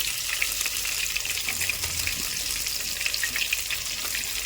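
Eggplant pieces sizzle steadily in a clay pot, a continuous close frying hiss with faint crackles and no talk.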